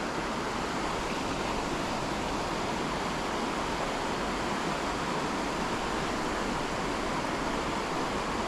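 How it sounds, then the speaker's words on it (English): A small, shallow creek flows in a steady, broad, unbroken rush of water, close and constant throughout, with no talking. "That's a brook."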